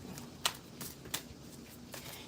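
Tarot cards are shuffled by hand in soft, quiet riffles and slides, with a few crisp snaps spaced irregularly over a faint background.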